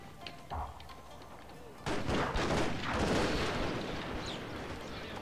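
Troops shooting up at castle walls in Total War: Shogun 2 – Fall of the Samurai, scattered gunshots and booming volleys that thicken into a heavy rumbling barrage, moderately distant, with a voice talking underneath.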